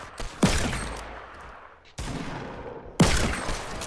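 Three loud, sharp pump shotgun blasts in Fortnite, spaced roughly a second or more apart, each with a crack and a fading tail, with no talk over them.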